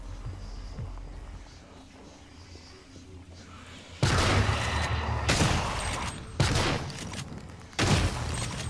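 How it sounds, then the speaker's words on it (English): Three loud shotgun blasts in the video game Prey break in after a quieter ambient stretch, each a broad booming crack with a lingering tail, irregularly spaced. "Or are you gonna hit him with the surprise shotgun first?"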